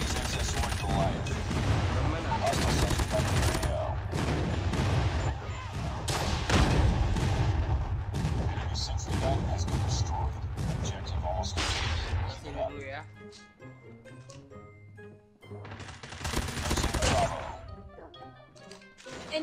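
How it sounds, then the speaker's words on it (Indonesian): Heavy gunfire and repeated explosive blasts from a Call of Duty Mobile match fill the scene, dense and loud, with bursts of booming impacts thinning out briefly before another strong salvo. "Friendly airstrike incoming."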